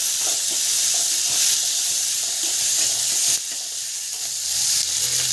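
Food being sautéed in a pan for a village-style dish, a loud, steady close sizzle with faint stirring scrapes and a brief dip in the hiss partway through, no voices.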